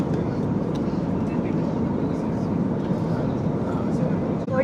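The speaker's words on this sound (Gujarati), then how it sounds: "થોડી જ વારમાં અમારો પ્લેન મુંબઈ એરપોર્ટ પર લેન્ડ થઈ જશે" Steady, loud engine drone and airflow hiss fill a passenger airplane cabin in flight toward Mumbai, an unbroken rumble with no pauses.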